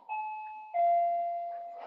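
A doorbell chimes indoors with a clear two-tone ding-dong, a higher note followed by a lower one that rings out and lingers. No one speaks over it.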